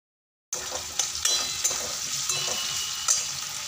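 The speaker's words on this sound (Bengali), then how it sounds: "এখন দিচ্ছি টমেটো, ক্যাপসিকাম, কাঁচা লঙ্কা কুচি। এটা দিয়ে বেশ কিছুক্ষণ নাড়াচাড়া করে নেব।" Tomato, capsicum and chopped green chili stir-frying in a hot pan, a steady close sizzle with a few stirring scrapes and clinks after a brief silent start.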